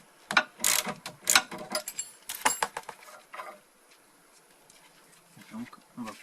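Ratchet wrench unscrewing a stabilizer link nut on a Peugeot 206, a burst of rapid clicking strokes close up that stops after a few seconds, with someone speaking between the turns.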